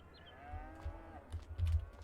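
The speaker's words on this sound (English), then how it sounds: "I like how they all mooed as soon as I tossed that hay bale in there" Dairy cattle moo after a hay bale is tossed into their pen, a faint low moo rising over quiet farm background with soft thumps.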